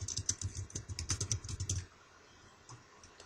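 Quick, irregular clatter of keys on a computer keyboard, close and crisp, with about a dozen rapid strokes in a short burst before it stops and leaves quiet room tone.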